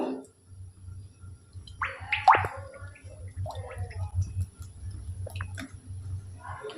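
White cooking oil glugs out of a container into a wok on a gas stove in a few short gurgling bursts, followed by faint drips, over a low hum.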